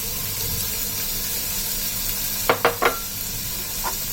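Onion, chopped tomato and sliced coconut sauté in a pan for chicken salna, giving a steady soft sizzle with a few sharp utensil clinks against the pan near the end.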